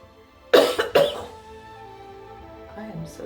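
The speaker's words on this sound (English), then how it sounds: "I am so sorry about the coughing." Two harsh, loud coughs in close succession near the mic, followed by quieter throat noise and faint talk afterward.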